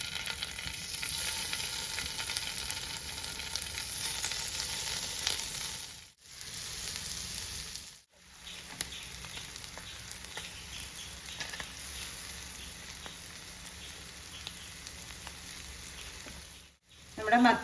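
Sardines frying in hot oil in a non-stick pan for Kerala-style fried fish, a steady close sizzle with soft crackling that breaks off twice briefly, then resumes with a faint clatter near the end.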